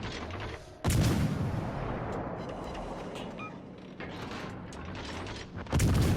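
Heavy naval guns firing on a destroyer in a ship combat game, heard as booming salvos at the start and end with a rumbling, mechanical bed of battle noise in between.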